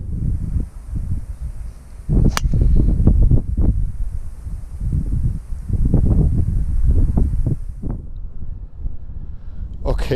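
Gusty wind buffets the microphone on a flat golf course in Berehaven, County Cork, Ireland, a steady low roar with rising and falling gusts under intermittent speech.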